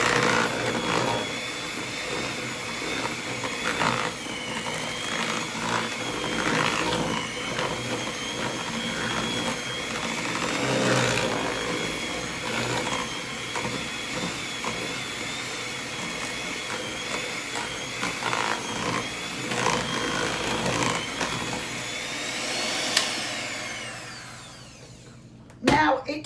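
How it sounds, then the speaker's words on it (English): An electric whisk beats sponge cake mixture at home, a steady motorised whirr running for about twenty-five seconds before cutting off abruptly, close and fairly loud, with faint talk underneath. "Again, I'm going to whisk this in."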